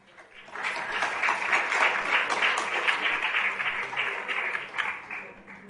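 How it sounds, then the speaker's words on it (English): Audience in a lecture hall in Bangalore clapping steadily for several seconds, a dense, sustained round of applause with no voices over it. "So thank you for clapping."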